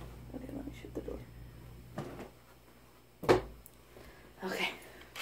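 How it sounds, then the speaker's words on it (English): An indoor door is pushed shut with one solid thump near the middle, set among soft rustling, lighter knocks and faint murmuring. "let me shut the door"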